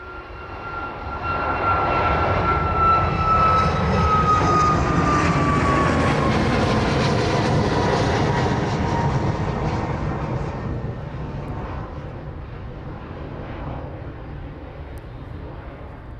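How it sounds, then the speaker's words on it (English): A Ryanair jet airliner departing East Midlands Airport for Faro in the evening, its engine roar rising to a loud, sustained rumble as it passes nearby, then slowly fading into the distance. "And around we catch the departure of that Ryanair service."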